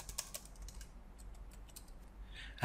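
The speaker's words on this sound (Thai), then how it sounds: "หรืออาจจะพิมพ์ PLC แบบนี้ก็ได้นะครับ" Quick, quiet, irregular clicks of someone typing the letters PLC on a computer keyboard, alone and close.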